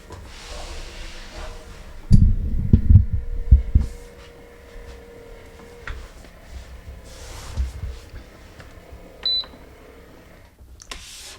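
A Terelax Shiatsu foot massager runs with a low motor hum, a burst of heavier thumping kneading near the start, then softer mechanical whirring and a few brief beeps.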